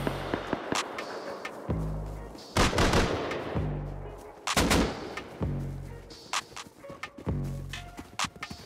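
Explosions and gunfire from a raid in the video game Rust sound in irregular bursts: sharp cracks and several heavy booms with trailing rumble, loud and fairly close, separated by brief quieter gaps.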